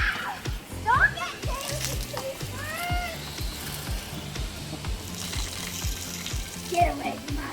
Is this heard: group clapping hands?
no